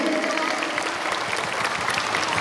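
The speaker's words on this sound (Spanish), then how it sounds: "aplauso para los siete que han cantado, por favor. Fuerte, que se escuche." Audience applause for seven singers at a live singing event, a dense steady crowd of clapping sustained throughout at moderate volume with a faint murmur of voices underneath.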